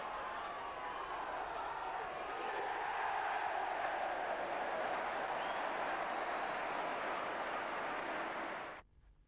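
Football crowd at Elm Park cheering after a Reading goal, a sustained broad roar at a steady level that drops away abruptly at the end.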